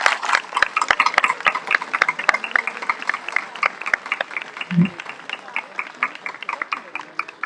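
Audience applause at an international street festival, a dense patter of hand claps with some sharp individual claps, moderately close and steady for several seconds before thinning out, with a brief low thump partway through.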